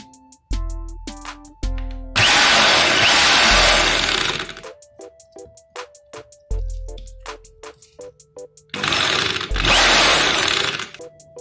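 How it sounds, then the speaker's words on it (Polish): A Makita HR2631F rotary hammer drill starts and stops repeatedly, with two loud sustained bursts of harsh grinding drilling between short whirring revs and beeping tones. "Według mnie wiertarka jest bardzo głośna"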